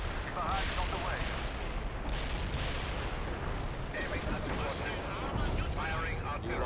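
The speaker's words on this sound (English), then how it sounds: "Firing artillery" Artillery barrage in the World in Conflict strategy game during a Soviet invasion of France, dense continuous rumbling gunfire and booms with voices heard over the battle.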